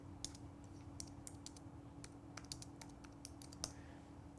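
Light typing on a computer keyboard, scattered quick clicks in short bursts, quiet and close over a faint steady hum.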